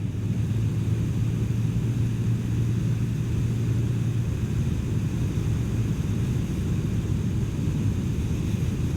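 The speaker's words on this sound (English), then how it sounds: "The CP Twin can cruise through the city at just about any RPM range." A Yamaha YZF-R7 with its CP2 parallel-twin engine rides through a city, giving a steady low engine drone and rumble with wind noise that holds for the whole stretch, no voices.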